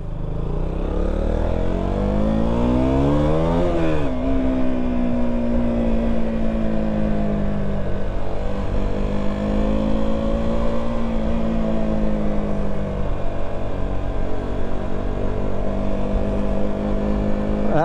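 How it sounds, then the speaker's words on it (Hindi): A KTM Duke 200 motorcycle ridden at night in Mumbai, its engine revving up in a rising whine, dropping at a gear change, then holding a steady loud drone close by with no talk. "अल्टीमेट मशीन, मज़ा आ गया KTM 200 चलाने में।"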